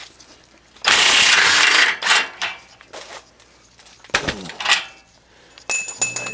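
Ratchet wrench working on 17 mm bolts of a 2005 Volvo XC90 lower control arm, with a long loud burst of rapid clicking followed by shorter ratcheting bursts and metallic clinks, close and alone.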